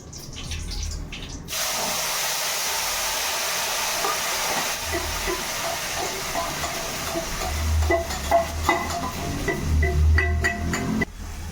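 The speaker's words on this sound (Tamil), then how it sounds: "புதினா நல்லா கொதிச்சு வருது" Ground mint paste boils in a pan, giving a steady bubbling hiss that grows busier toward the end and is punctuated by occasional pops and clinks near the pan.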